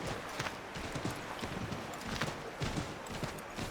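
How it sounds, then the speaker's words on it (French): Rhythmic clip-clop of horse hooves trotting at a steady pace in the video game Assassin's Creed III, moderately close, with no talking over it. "maintenant on peut siffler n'importe où et avoir un petit cheval"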